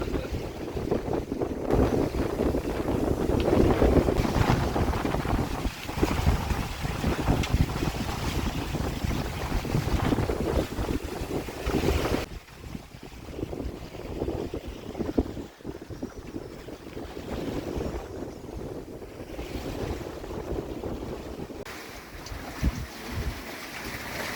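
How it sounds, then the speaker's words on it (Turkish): A sailboat runs with its sails up on the open Pacific, steady wind buffeting the microphone over the constant rush of water along the hull and waves outside, with no voices. "Hani açtık yelkenleri gidiyoruz vallahi."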